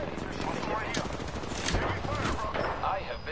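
Rapid gunfire in the battle royale game Apex Legends, dense overlapping bursts of shots that run loud and continuous throughout, with game sounds layered in.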